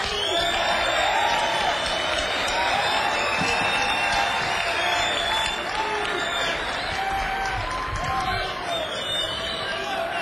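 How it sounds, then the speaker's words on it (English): A festival crowd at an outdoor Chicago blues show claps and cheers for the bands, a dense continuous roar of applause with whoops mixed in and voices through it. "Would y'all clap your hands for them too?"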